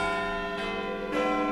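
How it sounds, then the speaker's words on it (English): Big Ben, the hour bell of over 13 tons in London's Elizabeth Tower, sounds a deep, resonant toll with a long ringing hum, followed by a second strike near the end. "Central one is Big Ben, the hour bell, which weighs over 13 tons"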